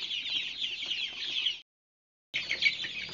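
KUB chickens clucking busily while eating maggots in a pen, a dense steady chorus of close clucks that cuts out briefly, then resumes just as thickly.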